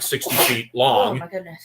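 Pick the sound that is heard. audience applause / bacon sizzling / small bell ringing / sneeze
sneeze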